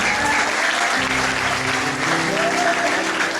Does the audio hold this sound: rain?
no